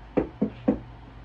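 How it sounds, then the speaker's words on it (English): Three knocks land on a residence door in an even rhythm, crisp and close, then the room goes quiet. "I'm going to start by knocking on the residence door."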